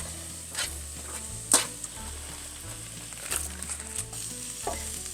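Roasted pumpkin drops into a pan of golden-brown onions and garlic frying in oil, bringing a steady close sizzle with a few louder spatters and scraping stirs.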